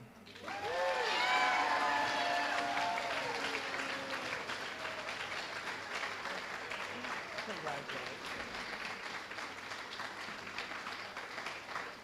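An audience at a school band banquet claps, loud at first and then settling into steady, sustained applause with a few voices and cheers mixed in at the start.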